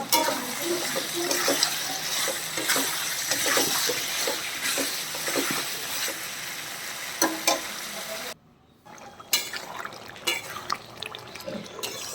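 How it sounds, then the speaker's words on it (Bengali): Mutton being stir-fried (kosha) in a pan gives a steady, close sizzle with stirring scrapes and occasional clinks. A short pause comes partway through, then the frying resumes. "মাংসটা আমার মোটামুটি কষানো হয়ে গেছে"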